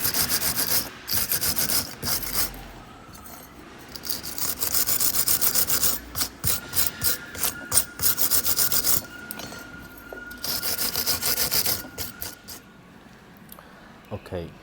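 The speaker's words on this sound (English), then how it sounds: "You need to clean these shims with the wire brush." A wire brush scrubs brake pad shims from a Vauxhall Insignia caliper carrier in quick, close, rasping bursts of back-and-forth strokes, separated by short pauses.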